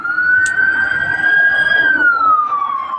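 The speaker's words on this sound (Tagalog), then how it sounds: "Wangwang na." Emergency vehicle siren wailing by a seaside outing, a steady loud tone that sweeps slowly, holding then sliding downward, with a faint whistle and background rumble.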